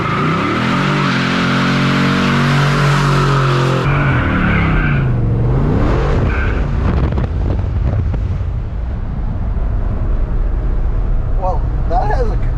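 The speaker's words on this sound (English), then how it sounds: "68 Chevy pickup with an LS in it." A 1968 Chevy pickup fitted with an LS engine roars and revs hard as it pulls away, wind buffeting the microphone, with rising and falling engine tones and voices over it.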